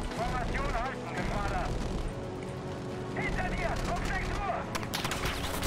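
Anti-aircraft style gunfire aimed at bombers in Battlefield V pops in rapid bursts beneath droning aircraft engines, with a voice talking over the clatter.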